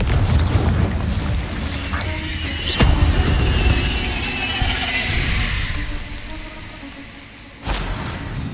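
A Confringo fire spell explodes in Hogwarts Legacy: a sharp crack, then a sustained fiery roar and crackle that fades, with another hard hit near the end, moderately loud and with no talk.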